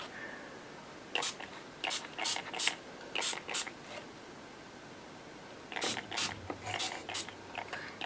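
Short hissing bursts of an aerosol spray can, about a dozen quick sprays in two clusters, close and fairly soft.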